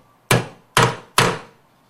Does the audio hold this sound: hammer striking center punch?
yes